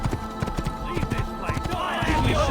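A horse's hooves clip-clopping at a quick, steady pace in the Assassin's Creed video game, close and distinct, with a voice speaking briefly over the rhythm.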